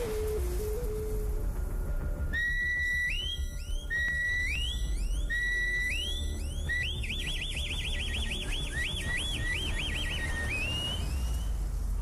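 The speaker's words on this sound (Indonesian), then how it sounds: "peluit kematian." A death whistle wails in repeated rising and falling shrieks, turning into a rapid warbling trill, loud over steady low background noise.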